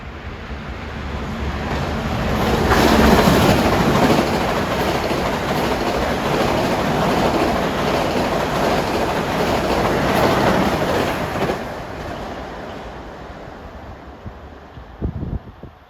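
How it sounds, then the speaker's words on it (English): Long Island Rail Road train 1017, Ronkonkoma to Penn Station, blasts through Mineola on track 1 at track speed during morning rush, a loud sustained roar of wheels and rushing air that swells, holds, then fades with a few late clunks. "First up at 6:19 a.m. is train 1017, Ronkonkoma to Penn Station, blasting through."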